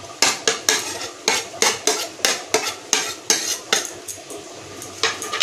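A spoon scrapes and knocks rhythmically against a bowl while coconut powder is mixed into hot water, about a dozen crisp clinks in quick regular succession, close and loud with no voices.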